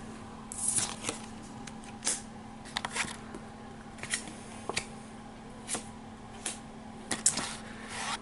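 Cards are shuffled by hand during a tabletop board game, coming as a string of short, crisp riffles and flicks spaced irregularly over a quiet background.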